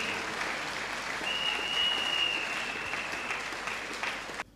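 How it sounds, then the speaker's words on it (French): Congregation at an evangelism crusade in Douala applauding steadily, a dense wash of clapping that holds evenly throughout and cuts off abruptly at the end. "Yes, clap, clap."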